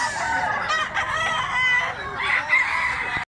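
A seven-month-old black leg gamecock rooster crows close by in a short, loud, continuous burst, with harmonic calls filling the whole clip.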